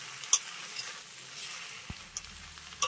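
Vegetables coated in spices, plus a fried lentil dumpling, are stirred gently in a pan for shukto, with a low, quiet sizzle and a few soft scrapes and clicks of the spoon against the pan.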